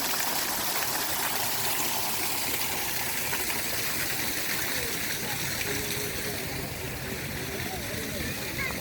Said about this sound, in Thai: น้ำตกกับสวยเลยทีเดียวครับพี่น้อง